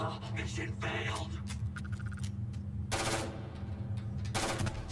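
Rapid automatic weapon fire from the space game Starfield, loud bursts of machine-gun-like shots running almost continuously with sharper blasts near the middle and end, while someone talks over it.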